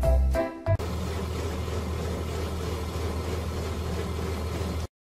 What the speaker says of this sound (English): Refrigerated van.